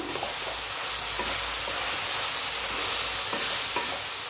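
Chopped vegetables and egg frying for pasta under a steady, fairly loud sizzle, with faint intermittent stirring scrapes running through; no talking.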